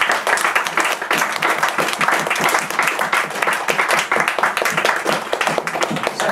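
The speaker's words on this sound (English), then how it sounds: "I want to thank them with a round of applause" An audience at a theatre closing night with an ensemble reading gives a sustained round of applause, a loud, dense and even patter of many hands clapping throughout.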